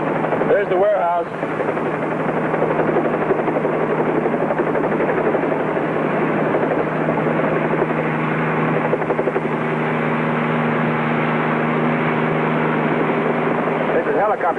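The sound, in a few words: helicopter flying overhead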